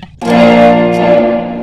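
Electric guitar played through a homemade one-knob 99 DSP reverb pedal with an overdrive in front, a single sustained chord ringing out alone with a dark, smeared reverb tail that fades slowly.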